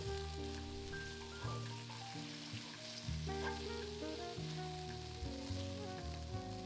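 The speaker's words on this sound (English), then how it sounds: "In the same pan, add an onion and saute for 1 to 2 minutes before tossing in your veggie" An onion sautéing in a pan sizzles quietly and steadily, with a faint, rain-like crackle beneath tonal background music and no voices.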